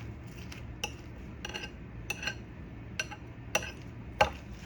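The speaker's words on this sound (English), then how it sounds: "let's get this stirred in real good" A utensil stirring apple cider coleslaw in a bowl, producing a series of light clinks and ticks at irregular intervals, soft and close with no talking.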